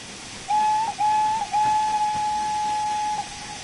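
A steam locomotive whistle in the train simulation game Train Sim World 3 blows two short blasts and then one long sustained toot, loud and close over a steady hiss.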